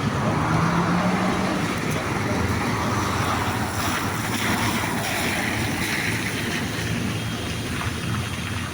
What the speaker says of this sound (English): you hear the blower out there